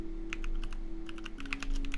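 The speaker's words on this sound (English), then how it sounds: "Sorry for typing slow." Keys clack on a computer keyboard in a short, uneven burst of close taps over a low steady hum.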